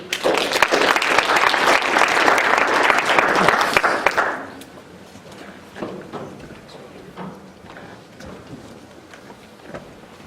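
Lecture audience applauding to welcome the speaker, loud dense clapping for about four seconds that stops abruptly, followed by quiet room noise with scattered thumps and shuffles.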